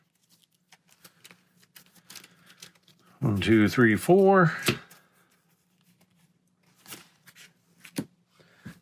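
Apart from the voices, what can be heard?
playing cards being shuffled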